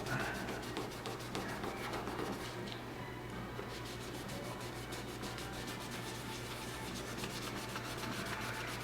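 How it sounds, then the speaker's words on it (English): Rhythmic hand rubbing and polishing on EAA Witness pistol grips makes a close, steady, scratchy swishing that repeats evenly throughout. "I'm going to try to continue to polish this out and rub it out."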